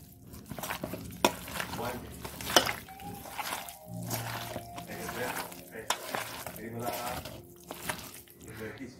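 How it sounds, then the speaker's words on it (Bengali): Hands mixing raw mutton with spices and oil in a bowl, producing irregular wet squelches and slaps at close range, with a voice talking over part of it. "এবার এটাকে একদম পুরো ভালো করে মেখে নেব।"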